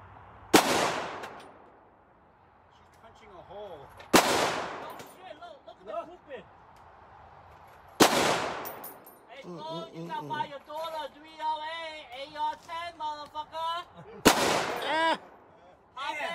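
Loud, sharp gunshots ring out on the 4th of July, each followed by a long echoing decay. Four shots come at spaced intervals, and people talk and murmur nearby between them.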